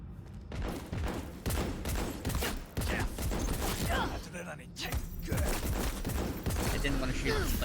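Rapid gunfire in the video game Cyberpunk 2077 Phantom Liberty, dense bursts of shots and impacts repeating over several seconds, loud and close, with someone talking over parts of the action.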